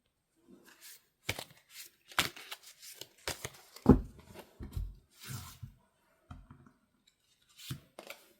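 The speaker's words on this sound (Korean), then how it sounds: "이번에는 이런 상황의 흐름일 때에 여러분에게 카드가 드리는 조언은 어떤 것일지 뽑아보도록 하겠습니다" Tarot cards shuffled and drawn in a quiet room, giving soft irregular riffles, slaps and rustles in scattered short bursts with one sharper snap, close and faint, with no talking.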